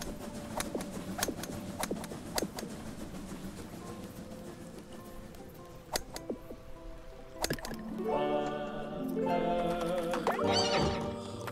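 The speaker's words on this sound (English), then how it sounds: "Show horse!" A horse in the golf video game What the Golf neighs loudly several times, with sharp clip-clop hoof knocks early on and a long whinny near the end.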